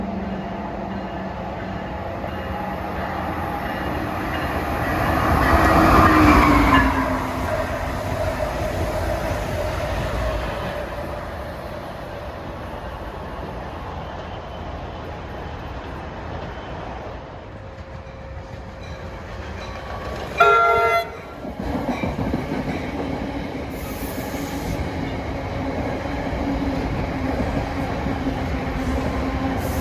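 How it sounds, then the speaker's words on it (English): Amtrak train 609, New York to Harrisburg, rumbles in steadily, swelling loudly for a moment early on, with a short sharp horn-like blast later over the continuing roll of the passing cars. "Approaching is Amtrak 609, New York Harrisburg"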